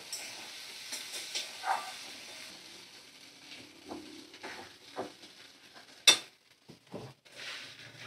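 Spices are stirred and fried in a pan over a medium flame while cooking a spiced mutton liver dish. A soft sizzle runs underneath intermittent scraping stirs, with one sharp metallic clink near the end.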